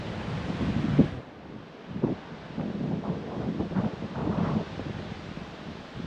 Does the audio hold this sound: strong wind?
yes